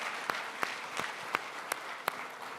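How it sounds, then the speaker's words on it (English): Audience applause for a panel at a World War II history conference, a moderate-level clapping that holds steady over the whole stretch, with several sharper individual claps standing out from the general patter. "Ladies and gentlemen, a round of applause for Rob Citino, James Finland, and Saul David"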